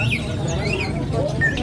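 A murai (magpie-robin) songbird at a bird kiosk sings a few clear whistled, sliding phrases over steady background noise and market bustle.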